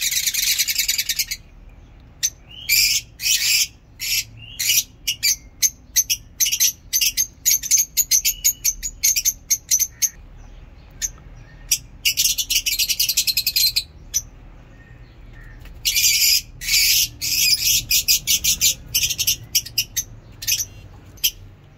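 Pet lovebirds, parrots and pigeons in a small home aviary chirp in bursts of sharp, high tweets that come and go, with several quiet stretches between the flurries.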